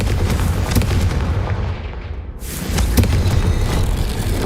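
A Confringo blasting spell in Hogwarts Legacy bursts with a loud booming explosion, followed by a rushing roar and a second heavy blast within a few seconds, all amid dense game noise.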